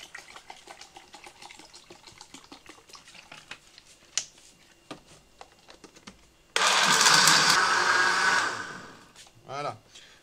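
A countertop blender whirs loudly for about two seconds, mixing soybeans with spring water into soy milk. Scattered small clicks and clinks come before it, and a brief rattling swirl follows as it stops.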